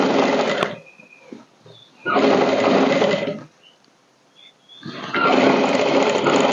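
An electric sewing machine stitches a blouse strip in three loud, close bursts of rapid whirring, with short quiet pauses between runs as the fabric is repositioned.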